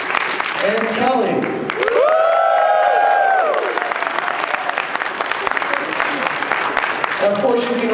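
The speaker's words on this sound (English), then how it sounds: "You guys should also cheer on your favorite." Loud sustained applause and cheering from a convention audience for sumo wrestler Kelly at Otakon Vegas 2014 USA Sumo, dense clapping with shouts and whistles throughout.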